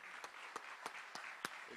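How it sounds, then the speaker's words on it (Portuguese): A church congregation at a celebration service applauds quietly, a soft steady patter of clapping with a few louder distinct claps standing out at regular intervals, heard from a distance. "Pode aplaudir ao Senhor."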